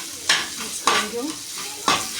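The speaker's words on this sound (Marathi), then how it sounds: "मिक्स करून घेऊ." Spoon stirring a potato paratha filling with turmeric in a hot pan: three distinct scraping strokes spaced about a second apart over a soft sizzle, close and fairly loud.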